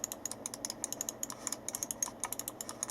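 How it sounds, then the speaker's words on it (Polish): Left and right buttons of a Gamdias Hades laser gaming mouse clicking in a rapid, fairly even series of sharp, close, quiet clicks, with no talk. "A jeśli chodzi o te przyciski, to już Wam pokazuję jak one działają. Przycisk lewy, prawy."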